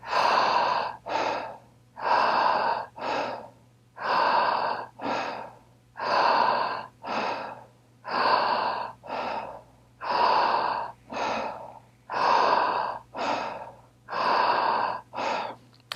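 Deep, rhythmic breathing during a breathwork exercise, each cycle a strong inhale followed by a forceful exhale, repeating about every two seconds, close and loud with no talking.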